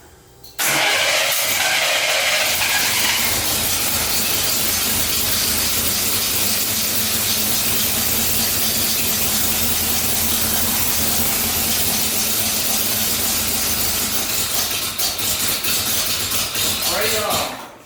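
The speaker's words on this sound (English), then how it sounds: "We got the Jeep where it will crank up and stay running for a couple of seconds." A Jeep Cherokee Chief engine cranks and then catches, running loudly and roughly for several seconds with a steady hissing roar close by before cutting off abruptly.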